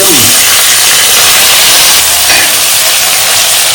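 Fenugreek seeds sizzle loudly in hot oil, giving a strong, steady hiss with a speaking voice faintly beneath it.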